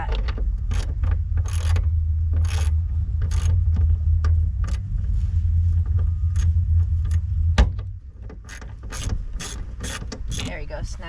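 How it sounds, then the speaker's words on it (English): Ratchet wrench clicking in rapid bursts while car parts are tightened on a coupe, with a low mechanical rumble underneath; the clicking is close and loud, then thins to scattered clicks near the end. "This ratchet is like breaking. It's like breaking and it doesn't want to do its job."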